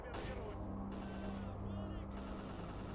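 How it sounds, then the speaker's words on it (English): Rapid bursts of gunfire in the video game S.T.A.L.K.E.R. crackle over a constant low hum, sharp reports clustering in quick volleys with a few brief gaps. "Hearing a whole lot of gunfire."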